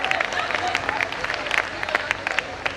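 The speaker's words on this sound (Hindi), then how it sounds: "ना ताली बजा दो यार, आप लोग जोरदार श्रोता हो।" Audience applause at a silver jubilee gathering addressed by a Hindi-speaking speaker, dense continuous clapping with scattered sharper hand claps running throughout, fairly close and steady.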